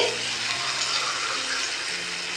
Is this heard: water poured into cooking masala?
yes